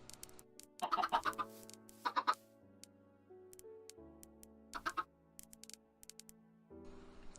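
Minecraft chicken clucking in a game, several short bursts of soft clucks spaced apart over a quiet background of layered tones.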